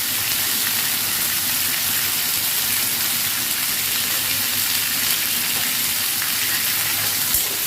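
Chopped onion frying in oil, a loud, steady, continuous sizzle close up with no break and no talking over it.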